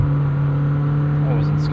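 A 907-horsepower 2026 Lamborghini Temerario accelerating hard with wheels spinning into third gear, a loud steady engine drone heard from inside the car, with a voice over it.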